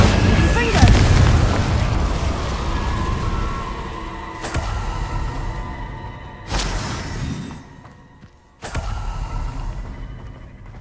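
Fire spells and fiery blasts burst repeatedly in the Hogwarts Legacy game during the Map Chamber quest, with booming explosions cutting in at intervals over a rumbling, crackling game soundscape while a voice calls out spell names.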